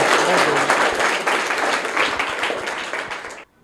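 Students in a private school smart classroom burst into loud, dense clapping for a correct answer, sustained for over three seconds before stopping abruptly, with a brief voice at the start.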